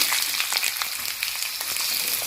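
Potatoes drop into ginger frying in hot oil, giving a steady close sizzle and crackle with no talking.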